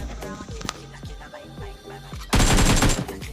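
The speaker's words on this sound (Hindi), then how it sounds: "फिर मैं राइट में एक बंदे को स्प्रे देता हूँ लेकिन वो बच जाता है" Automatic gunfire sprays in bursts from a shooter video game, with rapid rattling shots throughout and a denser, louder volley near the end.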